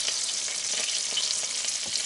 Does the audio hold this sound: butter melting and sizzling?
yes